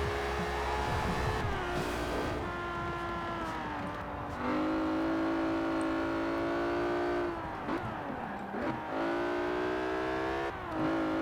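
A JDM car's engine in Forza Horizon 4 revs and holds high steady notes, with brief dips between gear changes and rises back up, loud and continuous throughout without talk.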